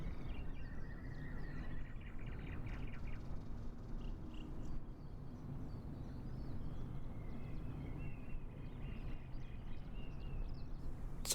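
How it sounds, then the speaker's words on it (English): Birdsong ambience in a flight simulator game, with scattered chirps and tweets over a steady broadband background hum throughout, fairly faint and continuous. "You hear the birds chirping."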